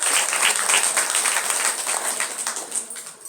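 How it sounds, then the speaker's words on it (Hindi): An audience at a Ram Katha religious discourse claps loudly in a sustained burst of applause. The clapping stays thick and even, then eases slightly toward the end. "आप सब जोरदार तालियां बजा करके।"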